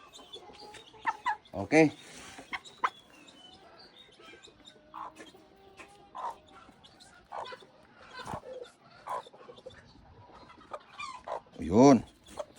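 Polish (polaco) backyard chickens cluck in short, scattered bursts at close range, with a couple of louder squawks, a dog barking now and then, and a person speaking briefly.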